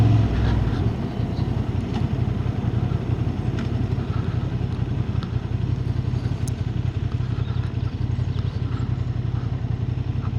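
Honda Hornet 750 motorcycle riding along, its engine a steady, loud, close drone with constant wind rush, holding an even pitch throughout with no voices.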